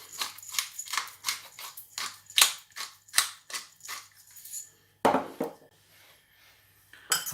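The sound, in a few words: mixing red cabbage coleslaw with vinegar, salt, pepper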